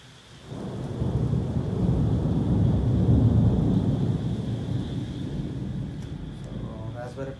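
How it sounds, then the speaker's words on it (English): Thunder from a powerful lightning storm outside rolls in as a long, deep rumble that swells and slowly fades, with rain and wind noise underneath. "Wow, we have a powerful lightning outside."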